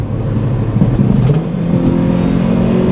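A Toyota Celica GT-S, a cheap auction car with rust on its brake rotors, heard from inside while driving: a loud, steady engine drone that swells as it accelerates, with road noise and no talk.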